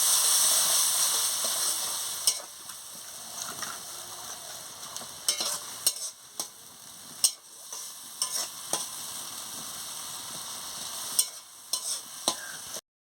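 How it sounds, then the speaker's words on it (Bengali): Masala with chopped tomato and a little water fries in a pan for a rohu fish curry, a hissing sizzle that fades as sharp, irregular spatula clinks and scrapes stir it. "দিয়ে ভালো করে মশলাটাকে কষাচ্ছি।"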